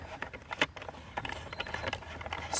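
A plastic fitting on an Autopots irrigation system is unscrewed by hand, giving a string of quiet ratcheting clicks and small plastic creaks at close range.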